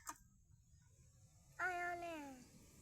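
A single cat meows once, fairly close and clear, a drawn-out call with a slightly falling pitch, heard outdoors beside a rice-field catfish-catching trip over quiet background noise.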